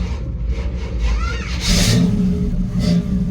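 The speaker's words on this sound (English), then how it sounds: "All right, let's see if this thing starts" A 1965 Chevrolet C-10 pickup engine cranks and catches, then revs up loudly and settles into a rough running rumble close by, with a voice talking over it.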